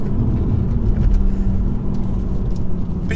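Car wheelspinning on launch during a hatchback comparison drive, a loud, close, continuous engine rumble and whir with tyre noise, steady throughout with no speech.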